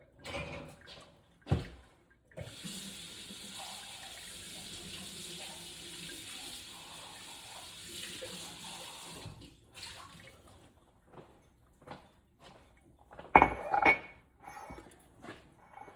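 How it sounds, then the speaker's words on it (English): A drink is poured into a favorite cup, with an intermittent liquid trickle and splash broken by short pauses and a couple of sharper clinks of the cup, all fairly quiet and close. "Gotta pour it in my favorite cup."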